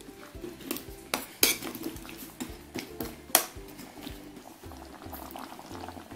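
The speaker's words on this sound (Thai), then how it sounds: "เราก็จะนำเอาฟักทองใส่ลงไปเลยครับ" Pumpkin pieces tipped into a pot of Thai pork curry: a bubbling simmer under clattering pot and utensil knocks, with several sharp clinks and splashes and no speech.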